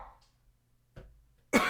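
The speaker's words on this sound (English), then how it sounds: "gotta stop coughing into the mic" Two coughs close to the microphone: a muffled one midway, then a louder, sharper cough at the very end.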